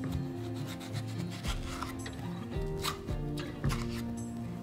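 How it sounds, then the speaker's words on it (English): A knife slices through a ripe mango beside the seed, making soft close scraping and rubbing strokes in several separate passes. The sound is moderate in level, with no talking. "slice about 1 inch to one side of the eye"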